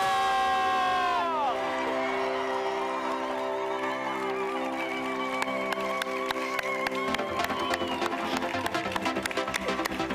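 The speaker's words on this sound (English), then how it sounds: "A round of applause, ladies and gentlemen, for your new Mrs." At the live Mrs. World pageant in South Africa, a large crowd cheers and applauds the newly crowned winner. Sustained tones fade into a dense roar of cheering, whoops and clapping, with an announcer's voice heard over it.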